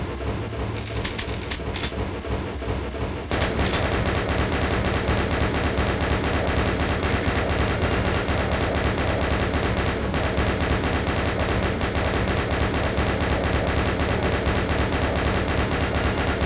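Relentless rapid gunfire in a Doom game battle against the spider demon, a dense mechanical rattle of shots that starts a few seconds in and continues loudly without pause, with no talk.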